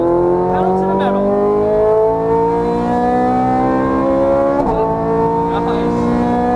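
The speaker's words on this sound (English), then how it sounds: "full throttle we go. Pedal to the metal" A Ferrari 430 Scuderia engine at full throttle on a track, loud and close, with steady rising harmonics as it pulls through the revs. A brief shift break comes partway through, then the engine climbs again. A voice speaks over it.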